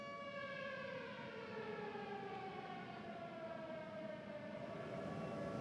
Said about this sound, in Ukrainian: Yes, I can hear the siren.